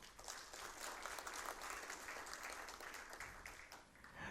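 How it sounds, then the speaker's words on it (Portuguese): Audience applause at an engineering institute's opening ceremony in São Paulo, an even, continuous wash of many people clapping, fairly faint and distant in the hall, with no speech. "que eu peço uma salva de palmas"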